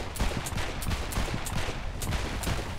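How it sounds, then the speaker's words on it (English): Gunfire in Saints Row IV co-op play, a steady run of evenly spaced sharp shots, loud and continuous, with no talk over it. "He's shooting a man that's on fire"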